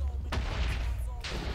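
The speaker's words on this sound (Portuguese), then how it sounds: "Eita, tá dando as explosão." Explosions go off in a Minecraft SkyWars match, two sharp blasts about a second apart with rumbling between them, loud and close.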